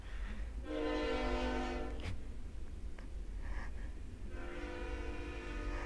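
A train passes near a church in California wine country and sounds its horn in long blasts, with rumbling rail noise underneath and a brief pause between the horn calls.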